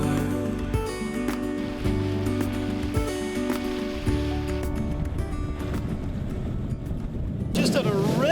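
A sailboat sails briskly under wind at 8 to 9 knots off Arran, with water rushing along the hull and a steady wash of wind under music.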